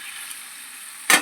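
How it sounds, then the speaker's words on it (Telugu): Tomatoes cook in a pan of hot tempering oil with brinjal, salt and cumin, giving a steady soft sizzle that ends in a brief louder burst of crackle. "తాలింపు వేసిపోయాక టమాటాలు మగ్గిపెడుతున్నాను"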